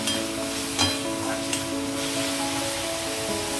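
Sliced onions fry in a pan for a drumstick egg curry, giving a steady, close, continuous sizzle with faint stirring, and no talk over it.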